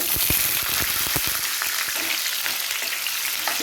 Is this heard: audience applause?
no